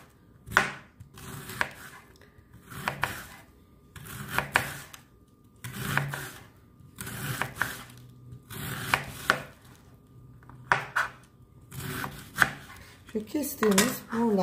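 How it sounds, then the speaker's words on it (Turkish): A knife slices red cabbage into thin julienne strips on a cutting board, in quick bursts of crisp chopping strokes separated by short pauses, close and clear with no talking. "Şöyle incecik jülyen şeklinde lahanamızı kesiyoruz."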